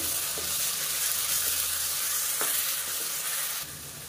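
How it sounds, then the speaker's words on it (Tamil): Ginger garlic paste with onions, cinnamon and cloves sautés in a pan with a continuous, loud, close sizzle and frying hiss, plus a few faint stirring clicks and no voices. "இதையும் சேர்த்து நல்லா வதக்கி விட்டுக்கலாம்."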